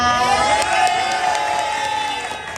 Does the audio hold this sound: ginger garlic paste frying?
no